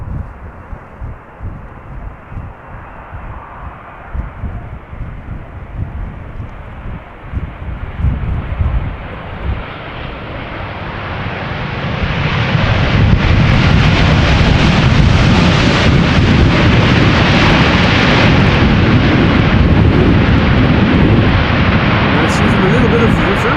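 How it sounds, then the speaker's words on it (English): A KLM Boeing 787-10 Dreamliner arrives at Amsterdam Schiphol, its jet roar growing from a distant rumble into a loud, sustained wash of engine noise, with a voice talking over the approach. "This is KLM flight 741, not with a wide-nosed but still arriving from Cartagena in Colombia."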